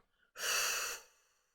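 A single long, close breath is blown out steadily during a guided relaxation, fading gently at the end in an otherwise quiet setting.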